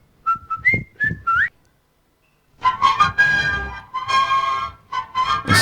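A man whistles a short tune: a few clear tonal phrases, a brief pause, then a longer wavering melody, close and fairly loud with nothing else heard.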